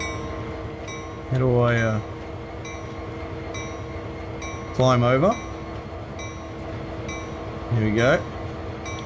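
Train engine and interior ambience from the Train Sim World 2 video game, a steady low rumble with someone talking over it three times at close range.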